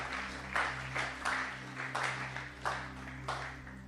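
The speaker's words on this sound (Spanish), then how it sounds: "Aplaude al Dios que vive." A church congregation claps in a faint, distant burst of applause, with a steady low hum running underneath throughout.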